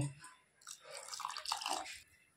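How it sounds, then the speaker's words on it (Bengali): Water poured into a cooking pot for chana dal with goat fat, a short soft splashing pour that swells after a quiet start and then tails off. "এই যে এখন আমি জলটা দিয়ে দেব"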